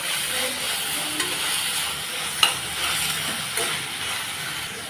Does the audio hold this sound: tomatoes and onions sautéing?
yes